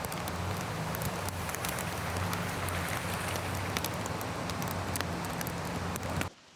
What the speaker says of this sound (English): it has started to dump. I got all the way up the road, right to the trail I wanted to hike into, and it just started pouring